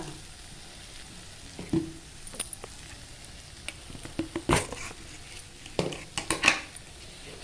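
Vegetables sauté in a pan for kara kuzhambu with a low, steady sizzle and a series of close clinks and scrapes from stirring against the pan.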